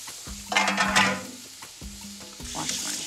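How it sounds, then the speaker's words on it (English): Seasoned beef for a slow braise sears in a Dutch oven, giving a steady close sizzle and hiss, with a few scraping stirs and pan knocks rising and falling throughout. "we're gonna throw this in the Dutch oven. I'm gonna start with the seasoned side down."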